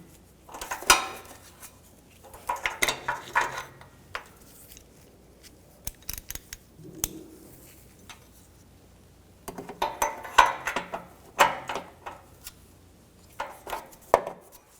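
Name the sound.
tightening a BMW X5 downstream oxygen sensor with a wrench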